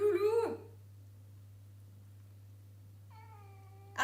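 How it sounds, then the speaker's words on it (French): A house cat meows in two drawn-out, wavering cries, one at the start and another near the end, close and clear, separated by near silence over a steady low hum. "Mais vous l'entendez miauler ou pas?"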